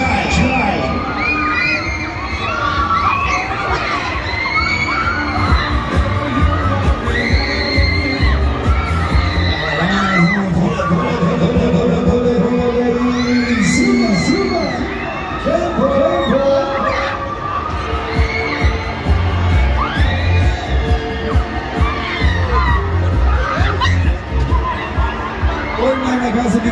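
Screaming and shouting crowd of riders on the Skater fairground ride at the Heinerfest in Darmstadt, a dense, loud, continuous wall of yells and cheers with rising whoops, carried over amplified background music throughout.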